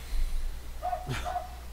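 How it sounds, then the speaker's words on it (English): A small dog yaps outside an open bedroom window, a brief bark or two heard faintly at a distance over quiet room ambience. "there's a dog literally yapping away"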